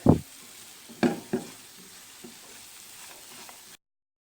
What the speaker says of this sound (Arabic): كنبقاو مستمرين هكا كنقلبوا فيه حتى يتحمر وياخذ لينا داك اللون هكا مذهب.